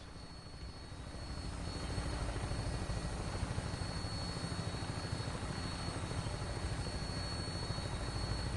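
An aircraft in Fallout 4 on final approach to an airport drones with a steady, loud, continuous engine and rotor roar that swells slightly at the start and then holds even throughout.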